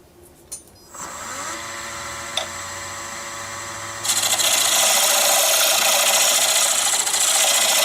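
A wooden shaft being worked with sandpaper or a power sander in a woodshop, a harsh continuous abrasive rub that starts quieter and turns louder and brighter after a few seconds, steady and close with no talk.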